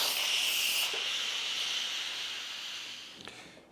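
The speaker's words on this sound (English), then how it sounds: "Pressure released." Steam hisses steadily from a pressure cooker release valve covered with a cloth, a loud continuous rush that slowly fades in strength, heard alone.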